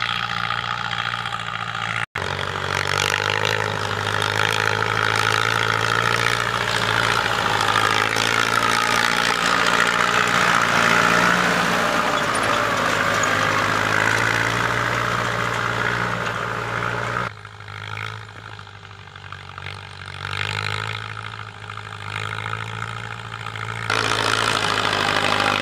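A Ford 7610 farm tractor fitted with a CMT plough idles close by beside a swamp, its steady, throaty diesel rumble running continuously with a brief dip in level partway through.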